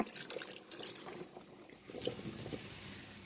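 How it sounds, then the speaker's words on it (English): Water poured into a pot of potatoes for potato and cheese soup, with soft liquid splashing and dripping in two short bursts, quiet and close. "We're going to add more water."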